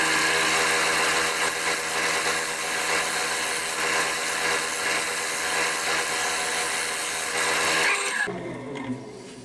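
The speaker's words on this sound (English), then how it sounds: "I'll probably just attack it with the other side of the spindle gouge now." A spindle gouge cuts into a sycamore platter spinning on a wood lathe, giving a loud, steady, rasping scrape with a constant motor hum that stops abruptly near the end.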